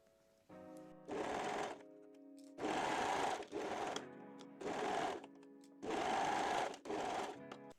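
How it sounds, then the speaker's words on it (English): A sewing machine stitches the band edges of a fabric binding for panties and bikini trim in several bursts of rapid whirring, separated by short pauses, close and clear with no talking. "First pin and sew the band edges right sides together."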